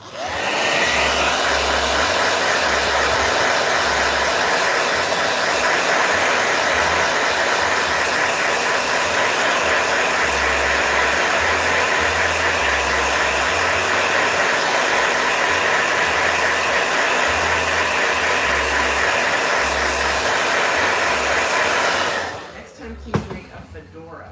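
A blow dryer whirs loudly and steadily for about twenty seconds, then shuts off and winds down, with faint voices briefly audible.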